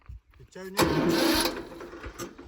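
A tractor's diesel engine cranks and catches, then rumbles steadily on a farm; people talk before and over the engine noise.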